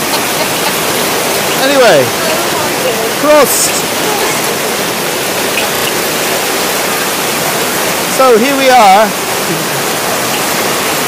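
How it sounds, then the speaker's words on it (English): Heavy rain and hail pound steadily on the deck of a cruise ship during a thunderstorm, a loud continuous roar with people talking briefly over it. "Oh, it's the hail. That is hail."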